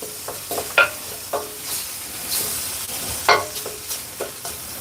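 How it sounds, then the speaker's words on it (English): Beef and shallots sizzle in a pan during a beef stir fry with peanuts, with a steady frying hiss broken by scrapes and clanks as the food is stirred. "fry for a moment."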